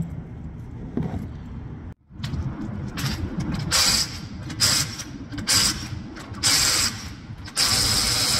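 Ratcheting wrench clicks and mechanical clatter come in short bursts while wheels are taken off a 2014-2020 Mercedes CLA 250 during a tire rotation in a garage service. The bursts are moderately loud and close, with brief pauses between them.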